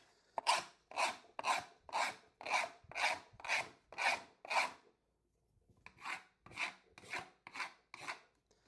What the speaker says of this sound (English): Let's see how well the cheap luxury vinyl plank flooring holds up to scratches.